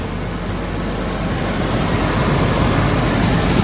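A steady, loud Suzuki Jimny engine drones continuously with a low rumble and no change in pitch, idling close by.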